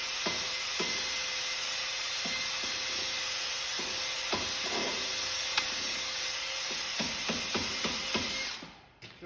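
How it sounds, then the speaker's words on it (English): A brass-tipped wire brush scrubs inside the wheel hub of a Sion with the brake caliper pulled aside. Scattered scraping strokes and clicks sit over a steady hum of background noise, which cuts off at the end. "Got a little brass tipped wire brush deal here."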